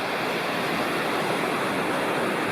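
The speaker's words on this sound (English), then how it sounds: "The roaring creek down there all night long." Sycamore Creek roars below a backpacking campsite in the Cherokee National Forest. Rushing water gives a loud, steady, broadband wash with no breaks and no voices.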